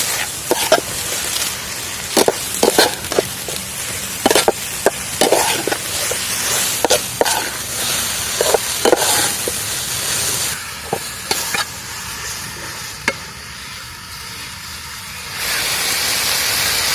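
Masala for an egg roast curry stirred and frying in a pan, with a steady hiss and sizzle broken by repeated sharp scraping knocks of the spoon, close by and with no talking.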